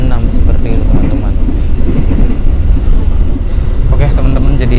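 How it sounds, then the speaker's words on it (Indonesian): The Baturraden Express passenger train rumbles along the rails after leaving Purwokerto station, heard from inside the carriage as a loud, steady low roar with rhythmic clacking throughout. "perjalanan dari kereta api Baturaden Express sudah berangkat dari stasiun Purwokerto"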